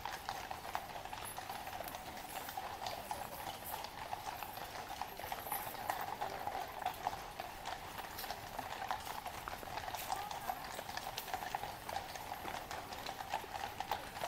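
Horse hooves clip-clop steadily on hard ground as a snow-white horse comes out of its stables for the royal family's guard duties, a dense continuous rhythm at moderate distance with no talk.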